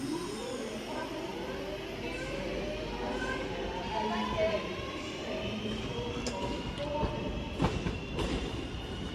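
A three-coach Class 323 electric multiple unit pulls away from Stoke-on-Trent toward Manchester Piccadilly, a steady rolling rumble with rising motor whine and occasional wheel squeal and clatter, fairly close, under station ambience.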